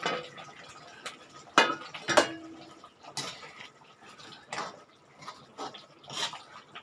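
Chopped palakkai (ivy gourd) tipped into a cooking pan, with clattering hits of vegetables and utensil on metal, a couple of sharp clanks followed by lighter scraping and stirring sounds, close with quiet sizzling between.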